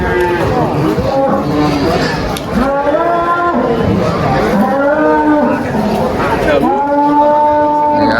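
Cattle at a livestock market, including a Limousin, moo loudly and repeatedly in long, overlapping drawn-out calls, with people talking in the background.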